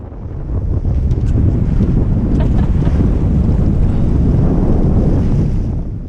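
Strong wind roars over a small sailboat under genoa on the Baltic Sea, loud and buffeting against the microphone with rushing water and waves beneath, no voices.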